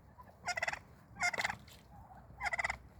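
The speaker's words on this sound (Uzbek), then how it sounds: "Induklar. Mana hozir endi bu xo'rozlari qichqirib, sayrab chiroyli bo'ladigan vaqti bular." Turkeys gobble in three rapid, rattling bursts on a farm, each burst short and sharply pulsed, sounding fairly close against a quiet background with a softer call in between.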